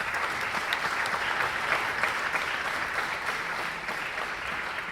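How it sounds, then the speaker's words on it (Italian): Seminar attendees at a local government event give a steady, sustained round of collective applause. The dense clapping from a seated audience in a hall stays even and moderately loud throughout, with no speech over it. "E proporrei ancora un applauso collettivo"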